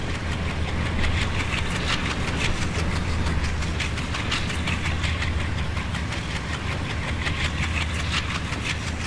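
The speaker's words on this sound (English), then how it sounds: "That's not necessarily the correct Alco engine sound for them" A swapped-in Alco diesel locomotive engine sound in the Trainz simulator, a low steady rumble with a constant throbbing drone and faint rhythmic clatter running evenly for about nine seconds, no voices.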